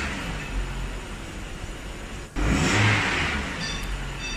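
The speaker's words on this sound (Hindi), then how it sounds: "तो गाड़ी अब रेस ले रही है लेकिन इसका आरपीएम थोड़ा ज़्यादा है" A 2014 Toyota Camry engine with a stuck throttle actuator fault revs in a workshop, a steady mid-pitched drone that surges louder about halfway through and holds a raised pitch.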